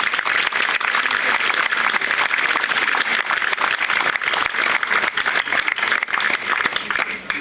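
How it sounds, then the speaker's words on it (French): An audience at a Theux–Terrasson twinning anniversary ceremony keeps up steady, dense applause, many hands clapping together at a constant loud level for several seconds with no pause. "ça mérite des applaudissements à nouveau spontanés"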